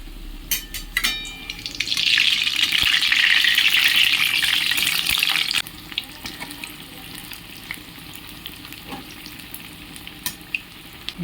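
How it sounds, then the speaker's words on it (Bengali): Mung dal and ash gourd fritters frying in hot oil: a loud, steady sizzle for a few seconds that then drops to a quieter, continuing crackle, with no talking. "তেল গরম হয়ে গেছে, এবারে বড়াগুলো ভেজে নেব।"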